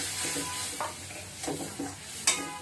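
Milk poured into a hot pan on a raised stove flame gives a steady close hiss with a few brief stirring scrapes and a sharp clink near the end, with no voices.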